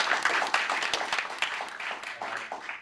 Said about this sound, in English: I think we should applaud ourselves mostly